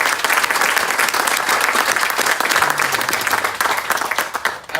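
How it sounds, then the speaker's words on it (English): Audience applause at a political event honoring a legislator's work, a dense, steady clatter of many hands filling the whole stretch before thinning out at the very end. "a little round of applause for all the work she's"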